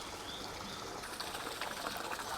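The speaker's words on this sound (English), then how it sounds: "This nice water fountain." A water fountain in a quiet Prague garden splashes steadily, making a continuous mid-distance wash of falling water with no talk over it.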